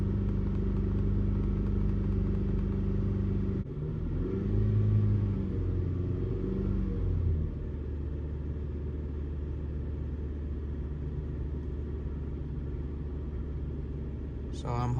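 Kia Sorento engine held steady at 2500 RPM with a misfire, a continuous loud rumbling drone that shifts briefly around the fourth second and carries on alone.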